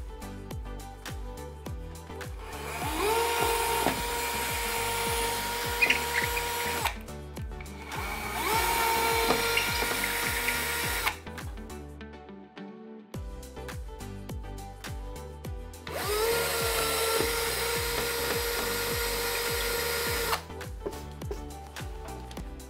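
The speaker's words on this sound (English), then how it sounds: "I've got my cordless drill all charged up and ready to go, and I've got a suitable masonry drill bit attached for this wall that I'm going to drill into" A cordless drill with a masonry bit bores into a plaster wall in long, loud whining bursts with short pauses between holes.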